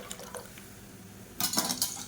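Dissolved lentil water poured into a pot of onion rasam, a short splashing rush of liquid near the end after faint kitchen clinks, close and fairly quiet.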